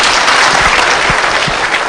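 A crowd at a political rally in Machakos County bursts into loud, dense applause that runs continuously, with a few heavier thumps mixed into the clapping.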